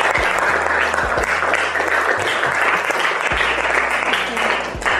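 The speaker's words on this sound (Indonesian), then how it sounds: "Boleh tepuk tangan buat Wafi" Sustained applause from a classroom of students at an Islamic junior secondary school, dense steady clapping filling the room for several seconds with no talk over it.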